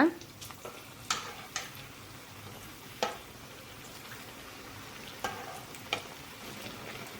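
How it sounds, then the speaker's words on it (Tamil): Appalam bajji frying in oil and being flipped, a soft, steady sizzle under a few sharp ladle clicks and taps spaced a second or two apart, close by and fairly quiet. "அடுப்பை வந்து ஃபாஸ்ட்டாக வச்சுட்டு பஜ்ஜி வந்து அப்படியே திருப்பி போட்டுக்கோங்க."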